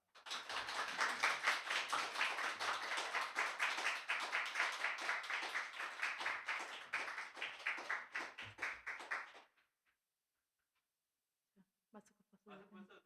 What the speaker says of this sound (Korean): 여러분들 할 수 있는 대로 큰 박수로 우리가 환영을 하도록 하겠습니다